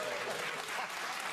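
Studio audience at a BBC Question Time debate in Edinburgh applauding, a short, fairly soft burst of crowd clapping heard from a distance.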